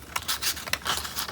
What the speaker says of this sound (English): just cut out a long strip of black